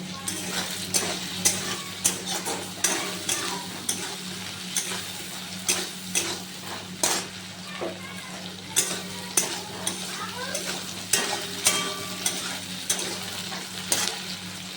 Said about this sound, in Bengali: তো মশলাটা কষানো হয়ে গেছে